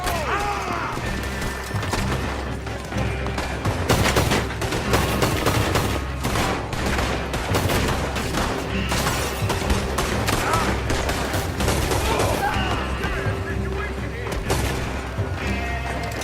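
Heavy gunfire in the Red Dead Redemption 2 shootout: a dense, continuous barrage of rifle and pistol shots, some booming, crackling close and loud throughout, with voices shouting intermittently over the battle.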